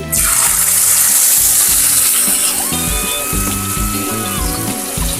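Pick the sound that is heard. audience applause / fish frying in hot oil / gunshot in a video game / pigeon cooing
fish frying in hot oil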